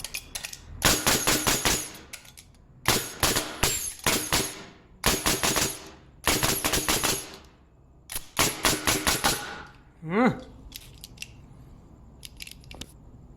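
Hitachi NR90AE framing nail gun firing during testing after cleaning and O-ring repair, a series of sharp, loud pneumatic bursts in quick clusters with short pauses between, close by, plus a brief squeak near the end.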